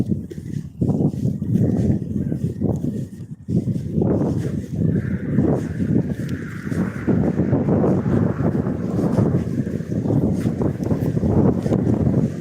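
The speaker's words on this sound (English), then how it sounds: "Now it's windy, cloudy and raining." Outdoors on a windy, cloudy, rainy day, gusts buffet the microphone with a constant low roaring rumble that swells and dips for the whole stretch and only briefly eases.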